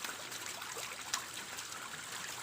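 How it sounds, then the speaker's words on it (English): Water trickles and flows steadily into a catfish pond, a faint, continuous hiss-like splashing with no voices. "I have to lock it so that water can fill the pond"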